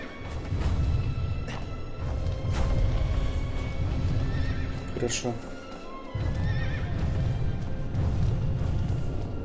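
In the video game Shadow of the Colossus, a horse neighs loudly in a sharp whinny over steady hoof clip-clops and game ambience, while a person talks throughout.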